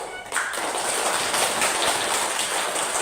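Children in an Indonesian classroom clap their hands together in a dense, steady patter that fills the room loudly and continuously after a brief quieter start.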